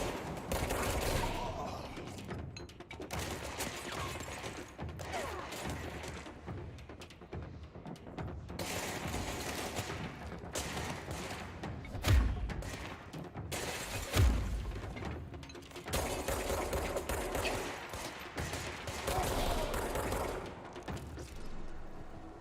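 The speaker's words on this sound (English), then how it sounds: "Oh, he's shooting at me." Video game gunfire fills the scene with continuous rattling bursts and sharp cracks, dense and fairly loud, with a couple of heavier impacts standing out midway.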